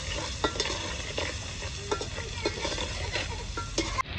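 Chibhda (snap melon) pieces stirred into a cooking tomato and onion masala in a pan, with a soft sizzle under rhythmic scraping strokes of a spoon, moderately quiet and steady.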